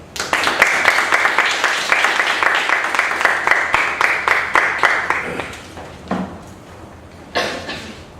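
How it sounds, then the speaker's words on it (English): Applause at a Young Adult Toastmasters Club evaluation session, rhythmic clapping from a small group, loud and steady for about five seconds, then tapering to a few scattered claps. "Please give a warm round of applause to TTM Ahmed."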